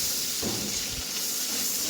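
Spice paste frying in a pan for a vegetarian doi potol, a steady close sizzling hiss that holds evenly for a couple of seconds.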